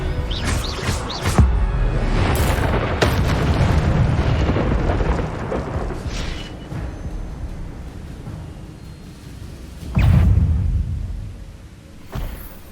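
An Expelliarmus spell cast in the Hogwarts Legacy video game: a run of sharp magical blasts and crackling bursts, with a strong hit near the start and another booming burst later, over steady rumbling game sound.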